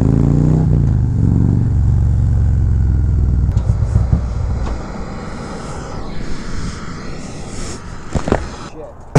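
A Harley-Davidson CVO Road Glide fitted with an S&S 128 kit revving, a deep loud engine roar that fades into rumbling wind and road noise, with people talking over it.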